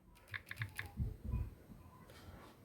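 Keyboard keys clicking in a few quick bursts of typing, with low thumps of handling noise between them, fairly close and moderately quiet.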